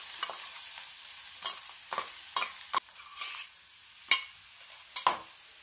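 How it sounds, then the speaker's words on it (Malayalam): Crushed coconut mixture sizzles in a pan of hot ghee for a bitter gourd thoran, a steady soft frying hiss broken by scraping stirs and sharp clicks of the spoon against the pan. "നെയ്യ് ചൂടായി, ചതച്ച് വെച്ചിരിക്കുന്ന ഈ തേങ്ങാക്കൂട്ട് അതിലേക്ക് ചേർക്കാം."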